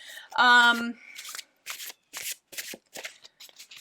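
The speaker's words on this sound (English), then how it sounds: "I will do some overhand shuffling instead" Tarot cards riffle and slap briefly near the start, followed by a run of short, soft card flicks and overhand shuffles with a voice speaking over the opening.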